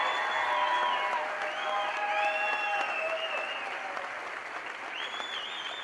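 Sustained audience applause at a school district celebration, a dense, fairly loud wash of clapping holding steady throughout, with some whistling tones and faint crowd voices underneath.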